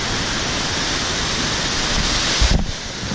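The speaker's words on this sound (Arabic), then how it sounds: "هذه هنا الشلالات." Steady, dense roar of waterfalls near Pike's Peak in Colorado, a constant broadband rush heard close up with no voices, briefly bumped by a low thud near the end.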